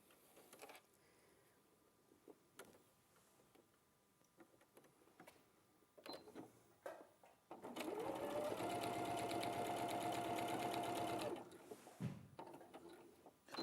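A sewing machine runs a steady quarter-inch stitch line through fabric, a close, continuous mechanical whir lasting a few seconds after scattered quiet handling clicks, then stopping abruptly.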